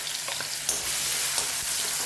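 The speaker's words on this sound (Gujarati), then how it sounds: "ડાયરેક્ટ જ આપણે તેલ ડુંગળી એડ કરી દઈશું" Onions sizzle in hot oil in a pan, a close continuous frying crackle with a few stirring knocks and scrapes.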